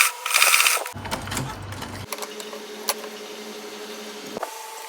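A sewing machine runs a short burst while hemming an Ankara gown, starting loud and then stopping, followed by quiet room noise with a few small clicks.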